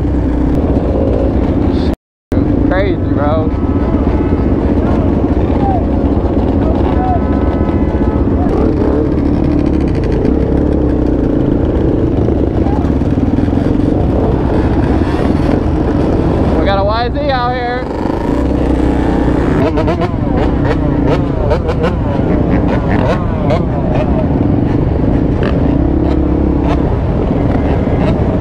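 A quad bike's engine runs steadily throughout a long ride, with a loud continuous drone and bursts of revving, and people talk and shout excitedly over it.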